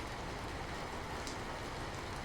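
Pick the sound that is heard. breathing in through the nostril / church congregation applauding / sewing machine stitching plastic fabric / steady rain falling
steady rain falling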